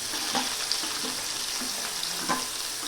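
Chopped shallots and garlic sautéing in a pan, a steady soft sizzle with a few light scrapes and taps of stirring, close and without speech.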